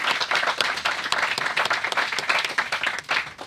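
A small audience applauds warmly, with close, dense clapping that holds steady for a few seconds.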